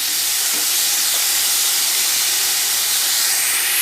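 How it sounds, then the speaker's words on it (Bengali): Bitter gourd pieces frying in oil on a gas stove, giving a loud, continuous dense hiss of sizzling that holds steady throughout, alone with no voices. "আমি উচ্ছেগুলোকে সুন্দর করে ভেজে নিচ্ছি"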